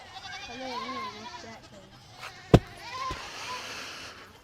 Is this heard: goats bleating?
yes